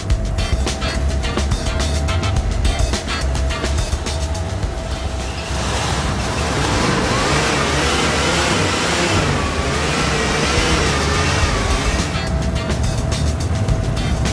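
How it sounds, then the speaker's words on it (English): A car engine that is dripping oil runs steadily and loudly throughout, a continuous rough mechanical drone with some rattling texture, close by and heard alone. "Runs perfect, didn't I tell you?"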